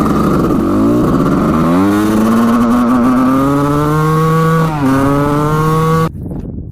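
A 1989 Suzuki RM250 two-stroke dirt bike engine revs loud and close, pitch climbing steadily and dipping once before rising again, then cutting off abruptly near the end.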